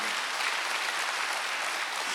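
A church congregation at a Wednesday worship service breaks into applause, a broad, even patter of many hands that stays steady from start to finish, with no speech over it.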